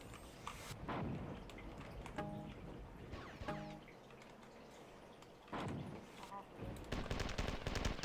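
Alternate-trigger weapon fire in Marathon 2, a few short bursts of shots separated by pauses, with tonal beeps and mechanical clunks between them, fairly quiet overall and ending in a denser burst.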